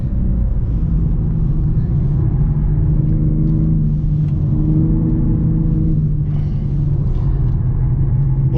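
A BMW M3 G80 driven on a race track, its engine droning and revving steadily with a loud, continuous mid-pitched rumble that rises and falls slightly as the car accelerates, with no talking over it.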